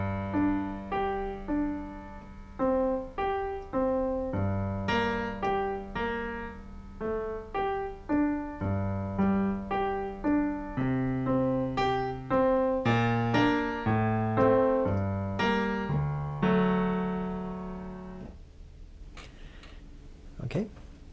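A melody from the film Aadhavan plays slowly on piano as single, separate notes in a steady, deliberate rhythm, clear and close. The last notes ring out into near silence.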